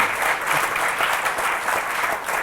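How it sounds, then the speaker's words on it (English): An audience applauds steadily, a dense patter of many clapping hands at moderate distance that holds evenly from start to finish. "that definitely deserves a round of applause"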